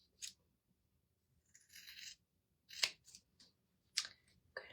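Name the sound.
scissors cutting fabric excess beside a stitch line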